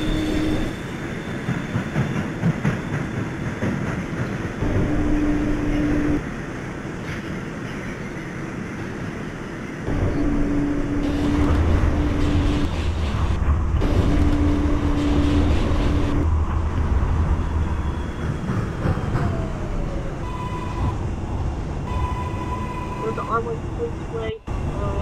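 An NYCT R142A subway train in the Openbve simulator runs with a rumbling motor hum, wheel clatter and rising tones, while automated announcements play over the noise.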